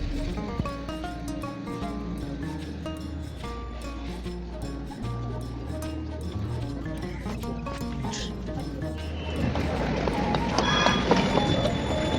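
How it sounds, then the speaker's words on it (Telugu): A Porto metro train pulls into the station with a low mechanical rumble and rattling wheels that grow louder toward the end amid ambient station noise, with faint talk. "అదిగో మెట్రో వస్తుంది. మనం ఇప్పుడు తీసుకోవాల్సిన మెట్రో అదే."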